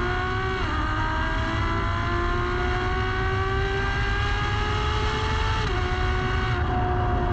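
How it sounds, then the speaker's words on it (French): A Ferrari F12 TDF engine shrieks at high revs, a loud, sustained, strident wail whose pitch climbs steadily and then drops briefly at two gear changes before rising again. "on a une puissance qui est délivrée sur la longueur de la plage de régime et surtout dans un hurlement qui est strident"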